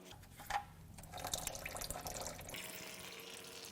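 Oil drains from the pan of a destroyed Subaru WRX EJ20 turbo engine, a steady pouring trickle with a brief splash near the start, close and fairly quiet with no talk.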